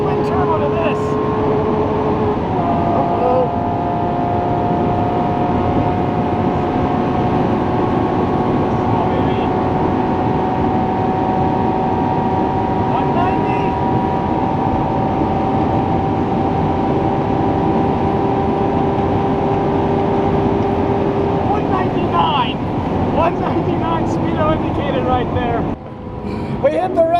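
Lamborghini SVJ with a 1,400HP Underground Racing twin-turbo setup at full throttle near top speed, a loud, sustained engine drone with slowly shifting tones heard from inside, with people talking over it.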